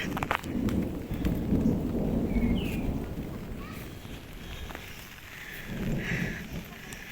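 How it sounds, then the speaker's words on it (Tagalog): Steady rain falls outdoors with low rumbling thunder rolling through, a continuous wash of drops punctuated by deeper swells, with faint voices in the background. "Uy, ulan na."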